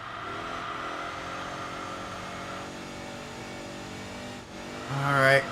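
A heavy, fast race car engine in the Enthusia Professional Racing video game holds a steady droning pitch, then revs sharply upward in a loud surge near the end.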